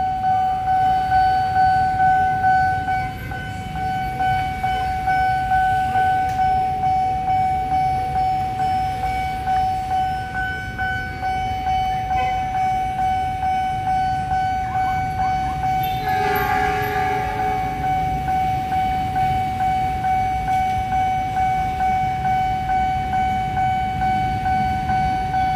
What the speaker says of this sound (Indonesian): Lokomotif dinas balik ke depo Cipinang.